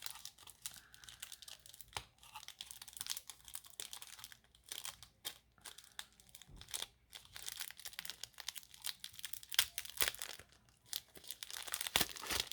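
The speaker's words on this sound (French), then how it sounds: "Et celui-là, je vais vous le déballer un coup." A packaged item is unwrapped, its plastic crinkling and tearing in continuous close, fairly quiet rustles with short pauses throughout.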